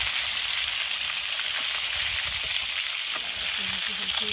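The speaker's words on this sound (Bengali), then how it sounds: "ভাজাগুলো সব ভাজা হয়ে গেছে, আর এখন এই যে মাথাগুলো ভাজা হচ্ছে।" Heads of tilapia fish crackle in a pan of hot oil, a steady, close, hissing sizzle with scattered pops and a few brief high squeaks toward the end, with no voices.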